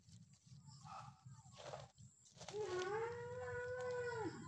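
A carabao (water buffalo) gives a loud, drawn-out bellow with a wavering pitch, rising near the middle of the clip and holding for about two seconds. Low rumbling and a few brief knocks come before it.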